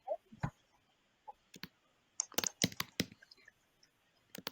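Sparse clicking of computer keyboard keys, a few isolated taps and then a quick cluster of keystrokes, fairly close and crisp against a quiet background with no talking.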